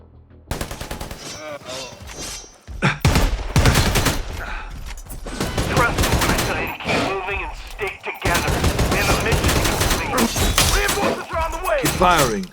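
Automatic rifle fire in the video game Predator Hunting Grounds, with loud, close bursts rattling almost continuously through the scene, broken by short pauses, while voices call out over the shooting.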